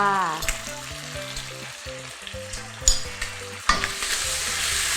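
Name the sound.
stir-frying bacon with oyster sauce and fish sauce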